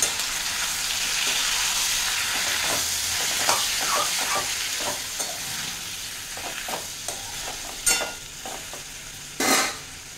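Four large chopped tomatoes sizzle and fry in a pan while being stirred, a steady hiss of frying broken by repeated scraping and clattering strokes of a spoon against the pan.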